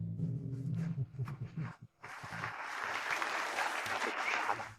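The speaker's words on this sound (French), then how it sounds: "Applaudissons chaleureusement." After a voice speaks briefly, a stage audience breaks into loud, sustained applause that fills the rest of the moment, welcoming a company CEO onto the stage.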